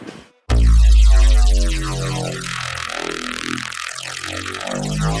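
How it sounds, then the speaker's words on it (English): A hair dryer with someone blowing into it from behind, starting with a deep loud throbbing hum that turns into a warbling, wobbling drone with shifting tones for several seconds. "But if I press and I blow from the behind"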